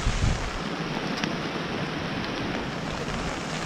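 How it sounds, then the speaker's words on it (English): Steady rain falls on a forest campsite with a tent and tarp, making a constant, even wash of noise that stays at a moderate level throughout, with no voices. "It is raining."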